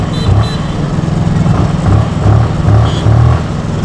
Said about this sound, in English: Nice bassy exhaust note